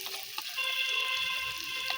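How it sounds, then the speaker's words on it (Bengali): Chopped ginger hits hot mustard oil in a pan, giving a soft, steady close sizzle with a few light crackles, brief and without talk. "এখানে আমি আদা কুচি দিয়ে দেবো"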